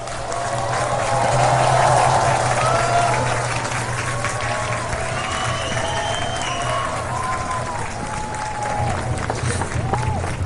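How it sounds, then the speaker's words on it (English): A festival audience at the Hornbill Festival applauds cultural troupes with sustained, dense clapping that swells early and then holds steady, mixed with faint crowd murmur. "Can we all stand and give them a round of applause?"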